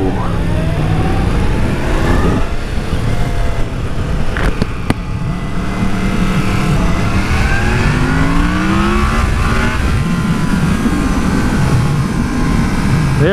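A Yamaha FZ motorcycle pulls hard in first gear, its engine note rising steadily and then climbing again in loud, continuous acceleration close to the listener.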